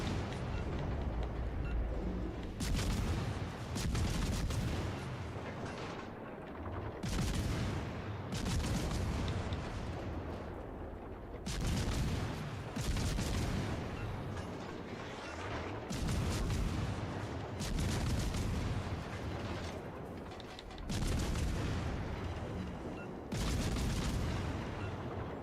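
Heavy warship turret salvos boom repeatedly in World of Warships: Legends, loud deep blasts recurring every few seconds across a continuous rumbling battle soundscape.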